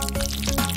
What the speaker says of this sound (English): Just don't forget to add the water.